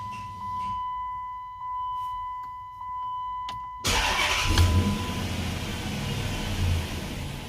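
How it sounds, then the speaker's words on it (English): A 5.7 Hemi V8, fresh from new spark plugs and wires, first gives a faint fuel-pump whine and a few chimes, then cranks briefly and catches. It settles into a loud, steady idle close by. "we're going to crank her over, see if she starts up, let the pump prime"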